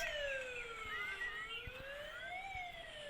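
A wailing siren sweeps up and down continuously, moderately distant, with faint traffic rumble underneath.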